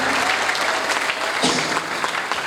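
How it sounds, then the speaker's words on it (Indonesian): A church congregation breaks into loud, enthusiastic applause during worship, a dense roar of many hands clapping close and continuous, with faint voices mixed in. "Tepuk tangan yang paling meriah untuk Tuhan kita."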